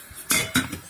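A glass jar set down on a metal sterilizing ring atop a pot of water, giving two close, sharp clinks of glass on metal in a quiet kitchen.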